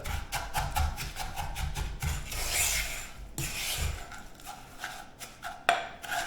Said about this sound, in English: give it a good stir around so that the biscuit crumbs absorb all the butter